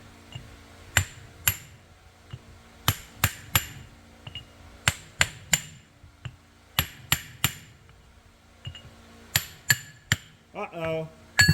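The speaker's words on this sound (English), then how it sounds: "Just grabbing me a drift so I can get a better hit on it." Sharp metallic hammer blows on a drift punch driving against a Toyota 8.4-inch differential, struck in irregular clusters of two or three ringing hits with short pauses between.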